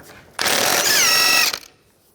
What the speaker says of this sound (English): take a 32mm socket, take the axle nut off.